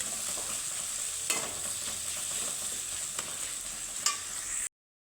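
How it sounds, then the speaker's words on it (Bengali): Spice paste with coriander powder frying for a vegetarian flat bean dish, an even close sizzle broken by occasional spatula knocks and scrapes against the pan before an abrupt stop. "তো ধনে গুঁড়োর সাথে মশলাটাকে ভালোভাবে একটু কষিয়ে নেব"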